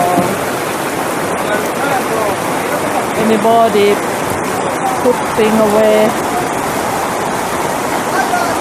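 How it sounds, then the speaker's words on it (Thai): Heavy rain pours down over a town market in a loud, dense, continuous roar. A person speaks over it, and faint clatters and voices carry from the stalls. "ฝนตกหนักมากเลยค่ะหนักมากๆเลยอ่ะ"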